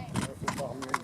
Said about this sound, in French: Now she will turn around and then she will go to trot